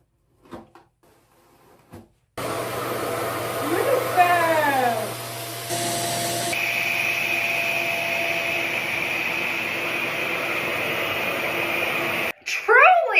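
A RevAir hair dryer drying hair gives a steady, loud, vacuum-like roar that starts abruptly, runs unbroken for about ten seconds, then cuts off, with a voice heard briefly alongside it.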